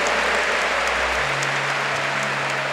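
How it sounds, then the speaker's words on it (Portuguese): A church congregation applauds during a Catholic Mass homily, a dense, continuous wash of clapping that fills the whole moment without any speech over it. "quer bater palma, aplauda com força"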